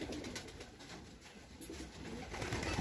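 A pigeon in a loft coos softly and repeatedly, low and steady, under a constant background hum with no talking.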